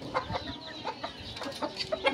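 Native chickens cluck in short, scattered bursts at moderate distance, several soft calls overlapping across a couple of seconds.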